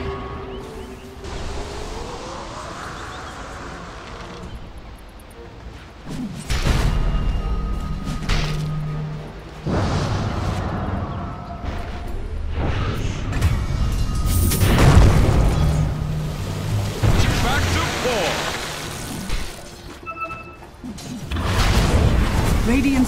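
Explosive booms from structures under attack in Dota 2, a series of heavy blasts and crashes in a battle around a middle tower, loud and repeated amid game sound effects.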